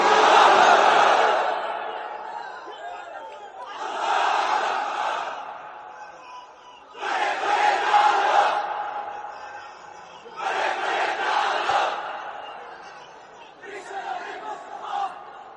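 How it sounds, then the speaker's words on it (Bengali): A large crowd at a religious sermon shouts takbir in five loud, roaring, chanted bursts, each lasting about two seconds, with short quiet gaps between them. "তাকবীর পড়েন তো দেখি, যারা চলবে বলতেছেন লিল্লাহে তাকবীর"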